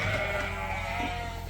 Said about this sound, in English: here's one of the little Suffolk ewe lamb